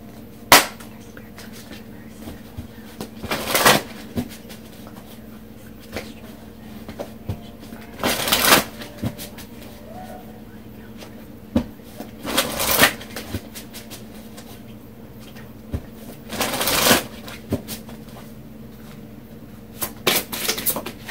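A deck of oracle cards is shuffled in several separate bursts of fluttering riffles a few seconds apart, close and moderately loud, with quiet handling between them.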